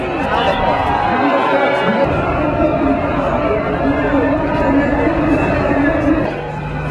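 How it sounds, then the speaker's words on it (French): A large crowd of protesters in Paris near the Arc de Triomphe makes a dense, continuous roar of voices and movement, loud and close, with talk mixed into the babble. "Regardez, la foule arrive de l'autre côté de l'Arc de Triomphe."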